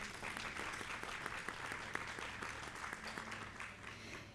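Audience applause at a literary talk, steady dense clapping from a seated crowd, fairly quiet and even throughout, with no voices over it.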